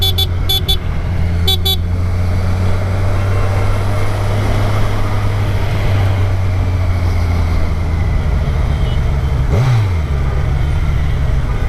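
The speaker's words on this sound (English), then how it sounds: "This bus is gonna come into here." A bus in busy Indian street traffic, its engine drone low and steady beneath short car horn toots near the start. A passing vehicle sweeps by near the end, with constant loud road noise throughout.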